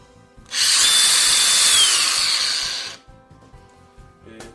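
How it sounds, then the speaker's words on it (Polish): A Dewalt DCG405 cordless angle grinder spins up sharply, whines at a loud steady pitch for about two and a half seconds, then its electronic brake halts the disc quickly, leaving a falling tone and quiet. "W szlifierce znajduje się hamulec elektroniczny"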